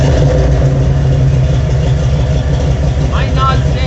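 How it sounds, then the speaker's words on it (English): A classic Ford F150 big block V8 with side pipes cold-starting, throbbing in a loud, continuous low rumble throughout, heard close. "Let's fire it right up."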